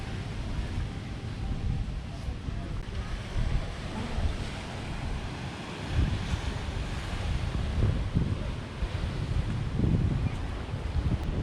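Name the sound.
ocean waves washing ashore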